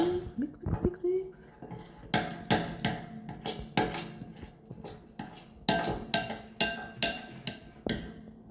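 Thick butter slime gets stirred in a bowl with a utensil, giving a series of rhythmic scraping knocks and clinks, close and fairly quiet, with a soft voice briefly at the start.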